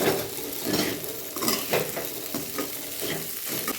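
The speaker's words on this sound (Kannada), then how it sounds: "ಕೊತ್ತಂಬರಿ ಶಬುದನಿನ ಸೇರಿಸ್ತಾ ಇದ್ದೀನಿ ನೋಡಿ ಫ್ರೈ ಮಾಡಿ" Sabudana and coriander fry in a pan, with a steady sizzle broken by repeated close spoon scrapes and light utensil clinks as the mixture is stirred.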